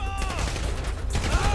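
GTA V gunfire bringing down an enemy during the first-mission heist, a quick dense burst of shots in a loud action scene with a voice mixed in.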